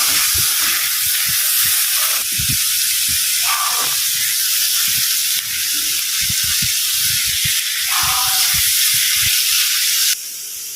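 Mixed vegetables sauté in a hot pan with a loud, steady sizzling hiss that runs throughout, broken by low clattering knocks from stirring.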